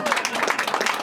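Comedy club audience clapping at a stand-up show, a short dense burst of applause, steady and fairly loud throughout.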